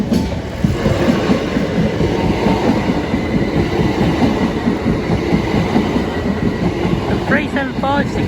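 Train rolling past St Dunstans level crossing in Canterbury, a close, loud, continuous rumble with rhythmic wheel clatter, and brief crossing alarm or bird chirps near the end.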